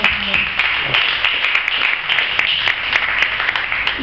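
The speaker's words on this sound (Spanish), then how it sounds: "Un aplauso para" Audience applause at a tango performance, loud sustained clapping from a full room, even and unbroken across the whole stretch.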